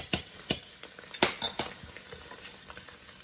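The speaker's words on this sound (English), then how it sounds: "Now I'm going to add the ginger and the garlic." Ginger and garlic fry in a pan for rib pilaf, a steady sizzle under several sharp utensil taps and stirring scrapes.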